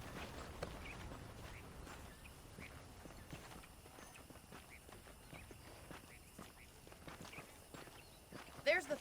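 Horse hooves clip-clop steadily in the Red Dead Redemption video game, a walking rhythm of moderate, close hoofbeats running throughout with ambient background, a louder thud near the end.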